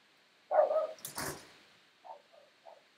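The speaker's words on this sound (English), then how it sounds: "I apologize for the dog barking noises in the background" A dog indoors gives one sharp bark and a second yelp, then a few soft whimpers, heard alone and fairly close in a quiet room during a cosplay livestream.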